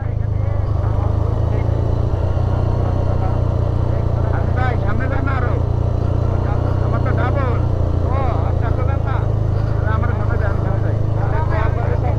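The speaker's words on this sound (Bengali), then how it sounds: "এখান থেকে পুরাটাই ইঞ্জিন ব্রেক পুরাটাই" Vehicle engine braking down a steep, risky slope descending from Boga Lake, a loud continuous low engine drone held steady throughout, with people talking over it.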